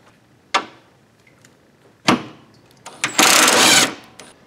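Power tool removing radiator bracket bolts on a Honda Civic/CRX, with two short bursts followed by a longer sustained ratcheting whir, close and fairly loud, without talking.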